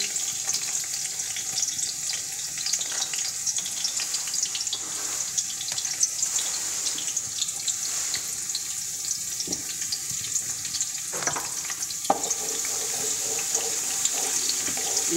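Onion frying in hot oil, a steady close hiss and crackle of sizzling that runs throughout with a few louder pops and spatters and no talking.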